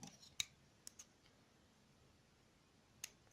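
Sharp scissor snips through beading thread, three or four brief clicks spaced across a quiet moment at a craft table, faint and alone.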